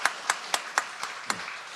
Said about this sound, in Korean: 우리 축하 환영과 축복의 박수 하도록 하겠습니다.